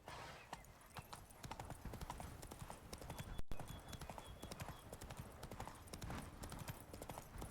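Hooves of Roach, the horse in The Witcher III, clip-clop steadily on the ground in a quick, even trotting rhythm, moderately close and fairly faint, continuing without pause over game ambience.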